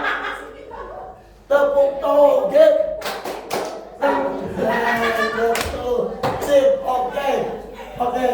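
A classroom group joins in a rhythmic clapping chant, with sharp sets of hand claps and slaps mixed with voices chanting and talking, plus a chuckle, fairly close and lively.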